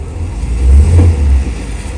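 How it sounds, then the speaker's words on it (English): A truck backing up on a street next to a sidewalk, its mid-pitched engine revving and rumbling close by, swelling louder in the middle and then easing back to a steady idle. "Let's see how she does with the truck backing up."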